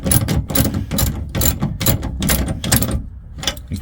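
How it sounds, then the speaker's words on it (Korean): A spanner or socket ratchet tightening a lock nut on a fixed seat-back bracket in a Bongo 3 double cab, close and loud, clicking in steady rapid bursts of pawl ticks with brief pauses. "풀림 방지 너트이기 때문에 이 힘으로는 안 들어가서 반드시 스패너나 복스를 통해서"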